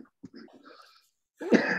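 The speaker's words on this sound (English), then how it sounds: "Windows XP makes me cough now." One person coughs once, harshly and close, after a few faint throat and breath sounds.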